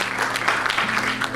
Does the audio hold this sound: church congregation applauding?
yes